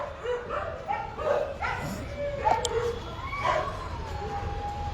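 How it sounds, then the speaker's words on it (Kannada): Several street dogs confined at an animal birth control centre yelp and whine in short, uneven cries at moderate distance, with a faint siren-like wail drifting through the background. "ಈ ಬೀದಿ ನಾಯಿಗಳು ಹೆಂಗು ಕೂಗ್ತಾವೆ"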